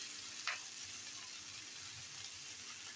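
Beef being cooked down in oil in a pan, a soft, even sizzle held at low level throughout, with one brief clink near the start.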